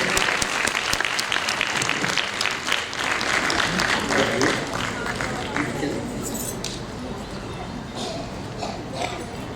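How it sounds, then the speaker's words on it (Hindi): Audience applause fills a dance tribute ceremony in an auditorium hall, steady dense clapping sustained throughout and tapering slightly toward the end. "एक बार इनके लिए तालियों के साथ हम अपनी भावनाएं अभिव्यक्त करें"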